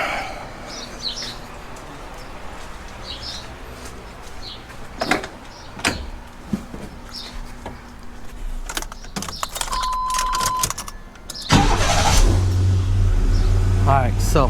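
Keys jangle and clicks sound, then a 1990s truck engine cranks and settles into a loud, steady idle rumble with the cooling fan off; a voice speaks briefly before.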